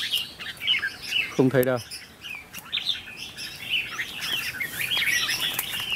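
A flock of young red-whiskered bulbuls chirps overhead in a scattered stream of thin, bright tweets. Someone speaks briefly near the start.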